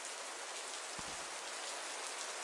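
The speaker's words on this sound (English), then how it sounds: "I love the sound of rain." Steady rain pours down in a dense, even hiss, with a brief low thud near the middle.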